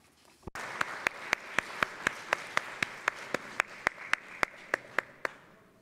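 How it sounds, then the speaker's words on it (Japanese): Clapping at a conference closing ceremony, with sharp, evenly spaced claps standing out above a steady wash of wider applause for about five seconds. "森清範幹事に再度大きな拍手をお願い申し上げます"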